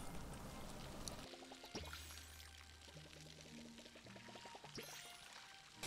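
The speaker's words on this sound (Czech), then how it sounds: "pravým tlačítkem si ji napustíme a jdeme levým tlačítkem zalejvat" Water pours from a watering can onto crops in the farming video game Palia, a steady liquid splash with short game chimes and tones layered on top, clear and close.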